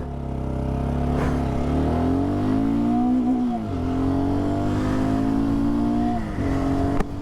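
A 2025 Honda GB350S motorcycle accelerates hard, its single-cylinder engine note climbing steadily in pitch, dipping briefly at a gear change, then rising again, loud and close throughout with no talk.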